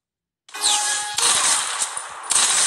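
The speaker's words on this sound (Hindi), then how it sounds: "और स्नाइपर चलाया भाई," A sniper rifle fires in a mobile shooter video game, three sharp, loud reports in quick succession, each ringing out with a metallic tail.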